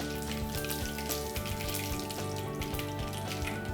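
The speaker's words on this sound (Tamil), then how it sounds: "கடுகு பொரியட்டும்." Mustard seeds splutter and pop in hot oil in a pan while a tempering for a banana flower and brinjal thokku cooks. The crackle is dense and steady, close up, and nobody speaks.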